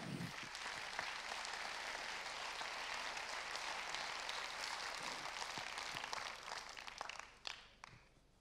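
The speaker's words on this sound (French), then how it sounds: "Je vous demande d'accueillir avec vos applaudissements" Steady applause from a large crowd at a general assembly fills the room, dense and sustained, then thins into scattered claps near the end.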